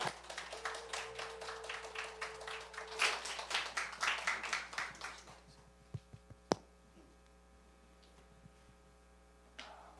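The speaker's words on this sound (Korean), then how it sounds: "우리 이동욱 선교사님 나오실 때 박수 그리고 함성으로 우리 선교사님 초대하겠습니다" Church congregation clapping in rhythm to welcome a missionary, a loud run of regular claps for about three seconds before it fades into quiet hum with a few scattered sharp knocks.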